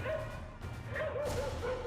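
Stray dogs in a street bark and yip repeatedly, a loud run of short calls over steady background noise with no talking.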